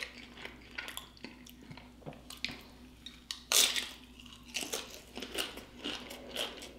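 Cheesy Doritos with melted cheese are crunched and chewed up close, with irregular sharp crisp bites and softer chewing between them in a quiet room.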